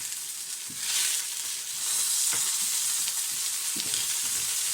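Steady frying sizzle from a pan, a constant hiss with occasional soft pops and clinks, moderately loud and close, no talking.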